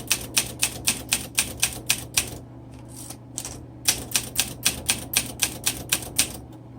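Close, crisp keystrokes on a 1961 Olympia SM7 manual typewriter clack in quick, even bursts, with a brief pause in the middle before the rapid rhythm resumes over a faint steady hum.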